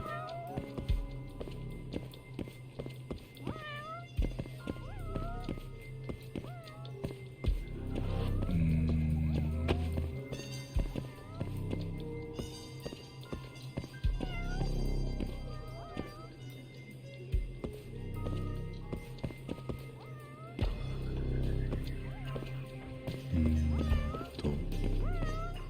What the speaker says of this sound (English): Is he meowing more based on where I am or based on where I'm looking?